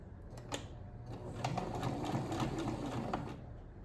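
Sewing machine stitches steadily along the cut edge of a shirt being resized, a soft, fairly quiet rapid mechanical chatter lasting a few seconds, with faint clicks at the start.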